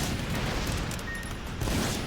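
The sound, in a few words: hovercraft strafing gunfire in a video game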